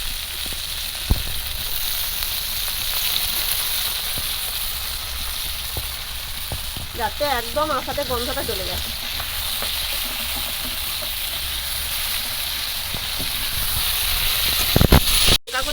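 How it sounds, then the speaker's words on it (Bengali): Fish sizzling steadily in hot oil with lemon juice, a continuous close frying hiss throughout, broken by a brief spoken phrase midway and a sharp clatter near the end. "মাছটা ভাজা হচ্ছে"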